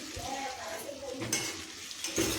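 Panch phoron spices crackle and sizzle in hot oil in a pan, a brief close frying sound with a spoon stirring and scraping against the metal.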